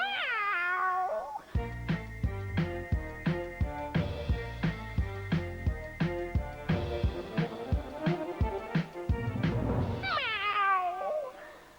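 A Persian cat in a circus-themed cartoon meows in long bending cries at the start and end, with a rhythmic music passage of plucked or struck notes in between.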